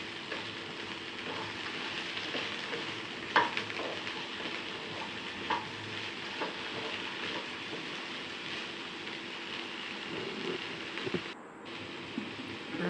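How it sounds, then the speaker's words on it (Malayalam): Tomato and green chili being sautéed in a pan with garam masala and salt, a steady close sizzle with occasional faint stirring scrapes running throughout, no talk. "ഇത് നന്നായിട്ടൊന്ന് വഴറ്റിയെടുക്കാം."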